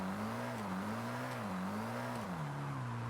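Engine drone from a car power-oversteering through a drift in Forza Horizon 5, pitch rising and falling in smooth waves as the throttle works, loud and unbroken with faint tire scrub beneath.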